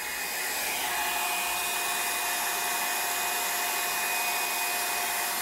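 A craft heat tool on its low setting blowing onto alcohol ink, giving a steady, close, loud whooshing blower hum with a faint motor whine, constant throughout and without speech.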